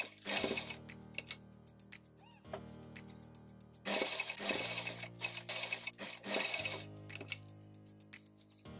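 A sewing machine stitches a fabric face mask, running in fast mechanical bursts of needle chatter separated by brief pauses, close and clear with no talking.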